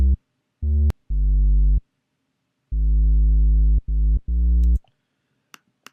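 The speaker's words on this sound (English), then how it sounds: "the patch is literally just a sine wave" Pure sine-wave synth sub bass patch sidechained to a kick, heard alone as six deep, clean sustained notes of varying length with clicks at their edges and short gaps, loud and close.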